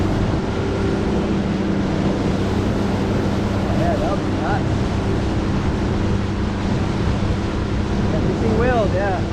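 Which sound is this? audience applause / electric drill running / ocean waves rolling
ocean waves rolling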